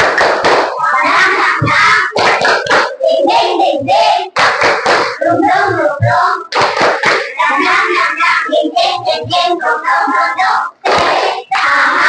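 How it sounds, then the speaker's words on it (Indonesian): A school class claps a rhythmic spirit-clapping routine together, loud and close, with bursts of patterned clapping mixed with children's shouted chants and a teacher's voice. "Ayo kita tepuk semangat."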